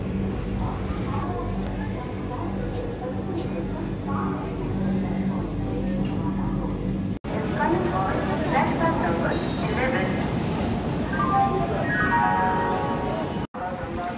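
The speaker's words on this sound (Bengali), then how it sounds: "ঘড়ির কাঁটা ঠিক 4:50 বাজতেই ট্রেন ছেড়ে দিল" The Rajdhani Express pulls out of Howrah station under police security: a loud, continuous rolling rumble of wheels and carriages fills the platform, with crowd noise and voices in the background and two abrupt breaks.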